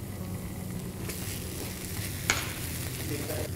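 Ginger and chopped green chilies sauté in a wok with red chili paste, a steady close sizzle under continuous stirring, with one sharper clink of a utensil partway through.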